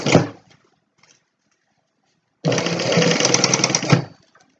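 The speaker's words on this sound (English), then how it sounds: "And you can start sewing from the very end now." A sewing machine top stitching a seam, with a short burst at the start, a silent pause, then a steady loud mechanical whirring run of about a second and a half close by.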